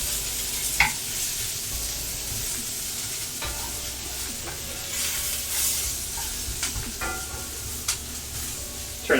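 Garlic toasting in a pan of pizza sauce, giving a steady, soft sizzle with occasional stirring scrapes and light clicks. The sound stays close and even throughout, with no voices.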